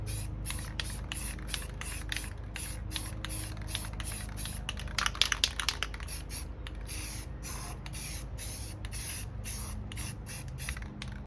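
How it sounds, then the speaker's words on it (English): Steady hissing spray from an aerosol paint can, continuous for several seconds with brief pauses and a short sputtering burst midway. "hit them with a little spray paint"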